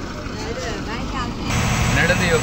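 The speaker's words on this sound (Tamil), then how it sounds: "பாருங்க இன்ஜின் அப்படி வேலை செய்யணும்" A boat engine runs steadily at sea off Neduntheevu, a constant low drone with water and wind noise that grows slightly louder partway through, while people talk over it.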